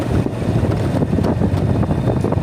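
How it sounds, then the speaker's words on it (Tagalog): Strong wind by the sea buffets the microphone in a steady, loud roar with gusty low rumbling throughout, no voices present. "Malakas ang hangin."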